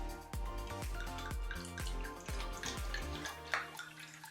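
Electrolytes reduced water poured from a bottle, a rhythmic glugging and splashing with repeated gulps of air, loud and close, continuing for several seconds without talk.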